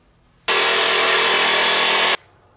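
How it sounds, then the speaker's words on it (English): A power drill drives a screw through a plate into a boat transom, one steady whirring burst of under two seconds, loud and close, starting and stopping abruptly. "I'll just put two little screws to hold it so it doesn't fall off when the motor's not on."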